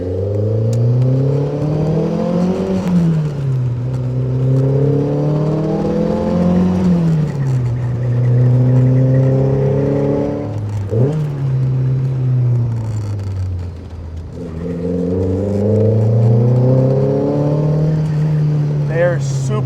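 A 1977 Lotus Esprit S1 is driven on the road, heard from inside as its engine repeatedly revs up through the gears and drops back, loud and steady, while someone talks over it.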